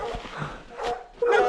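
Several short barks and yips from a dog on an outdoor bear hunt, sharp and fairly near, spaced unevenly across a brief moment with some background noise.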